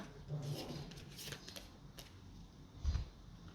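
Tarot cards rustle and slap softly as they are handled, shuffled and turned over, a quiet close-up sequence of brief papery flicks and taps with a small thump near the end.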